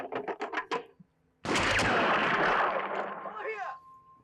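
A gunshot in the 1965 James Bond film Thunderball erupts after short spoken phrases, then a loud booming blast decays into a long rumbling roar lasting about two seconds.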